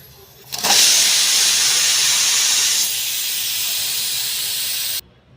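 A pressure cooker cooking khichdi vents steam in a loud, steady hiss that starts abruptly, eases slightly partway through and then cuts off, with no talk.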